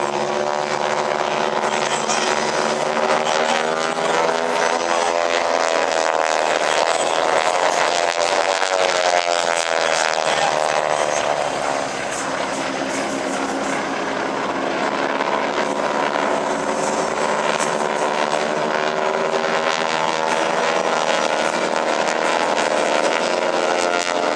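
At the 2021 Dayton Airshow, a loud aircraft engine drones continuously overhead, its pitch slowly sweeping and shifting as it passes.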